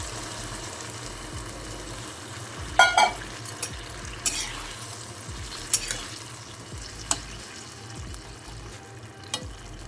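Water poured into a hot pan of softened cooked ingredients, a steady sizzle and bubbling with scraping stir strokes and a few sharp clinks of a utensil against the pan, close and fairly quiet.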